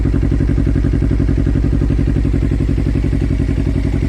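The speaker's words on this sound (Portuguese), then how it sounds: "Aí está Jescap Full 2 em 1 ronquinho, a galera queria ver." Inazuma 250 motorcycle with a full 2-into-1 Jescap exhaust, idling steadily with a close, loud, even rhythmic thrum and no talking.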